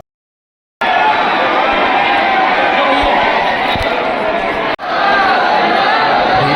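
A dense crowd of pilgrims packs the Radha Vallabh temple in Vrindavan on Rangbhari Ekadashi, a loud, continuous roar of chatter and shouting that cuts out for an instant midway, with voices talking throughout.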